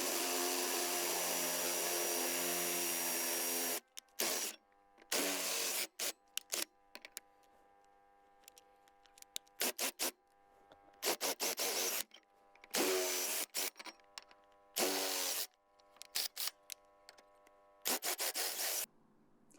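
A drill bores out holes in a solar panel frame for M8 bolts, coming in loud bursts of whirring and grinding, close up and separated by quiet gaps, with no talk.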